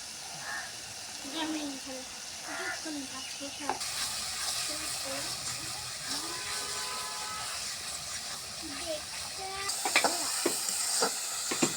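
Onions sauté in oil for a fish curry, giving a soft, steady sizzle that swells louder partway through, with occasional stirring clinks. Someone speaks quietly over the frying.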